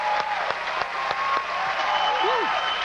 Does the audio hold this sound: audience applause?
yes